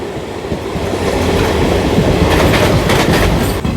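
A train rolls along the new Guntakal–Markapur line through the Nallamala ghat section, giving a close, loud, continuous rumble of wheels with steady rhythmic clatter.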